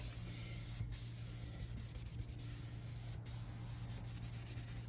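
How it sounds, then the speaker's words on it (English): All-purpose wipe rubbing a worktop joint clean during a silicone repair on granite: a steady soft scrubbing hiss with a few brief scuffs, close and quiet over a low background hum. "You need to clean your joint. There. Clean your surfaces right down."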